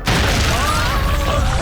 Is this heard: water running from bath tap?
no